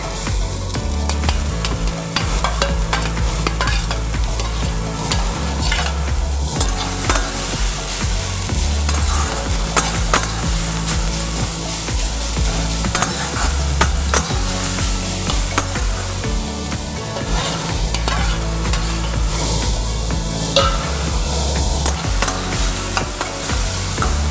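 Grated beetroot sizzles and crackles steadily in a hot frying pan while a spoon stirs and scrapes through it continuously, close up with no talking.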